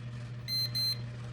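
A non-contact voltage tester gives two short electronic beeps in quick succession, high and clear, over a steady low hum.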